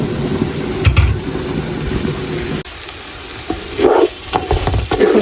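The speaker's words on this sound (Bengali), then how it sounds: "এখন চালটা আমি সুন্দর করে তেলের মধ্যে ভেজে নেব" Uncooked rice frying in hot oil in a pan for Sylheti akhni biryani, a steady close sizzle with a few stirring scrapes and clinks partway through.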